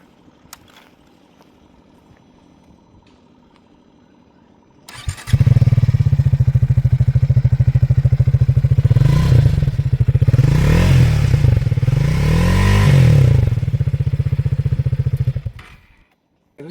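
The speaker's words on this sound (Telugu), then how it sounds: "ఈ బైక్ ఎగ్జాస్ట్ సౌండ్ విందాం." A 2025 Triumph Speed 400 single-cylinder motorcycle starts after a quiet lead-in, then its exhaust idles with a steady, loud thump and rises through two revs before cutting off, with no talk.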